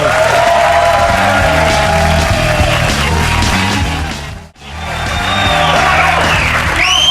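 A studio audience at a comedy panel show claps and cheers loudly, a dense wash of applause with whoops that fades out and then swells back up.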